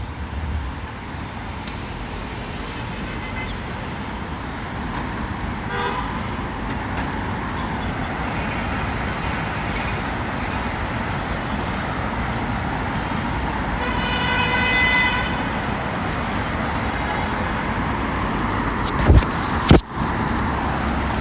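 Wuhan street traffic on a smoggy day: a steady close wash of road noise with several car horns honking at intervals and a siren-like tone rising through the middle, ending in a couple of sharp knocks.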